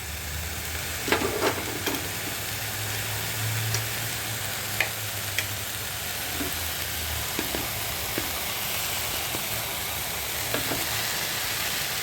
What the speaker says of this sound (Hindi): अब मैं डाल रही हूँ उबले हुए आलू।